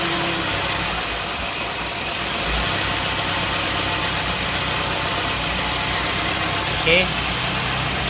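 Car engine idling steadily during carburetor adjustment, a loud continuous rumble with vibration and a slight knocking texture, running under a man's brief spoken remark.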